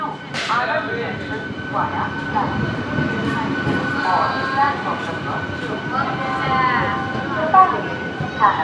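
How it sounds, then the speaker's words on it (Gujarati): A Gujarat passenger train rumbles into a station with metallic squeals and a whining tone, while people nearby talk over the noise. "આપણી રેલવે આવી ગઈ છે"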